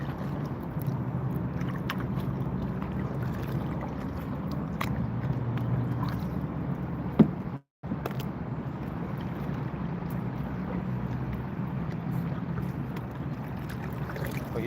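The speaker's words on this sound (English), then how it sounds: "we're just paddling through right now" A kayak paddled along the Schuylkill River, with soft, steady water swishes and faint scraping and creaking, a quiet outdoor wash throughout broken by a brief dropout midway.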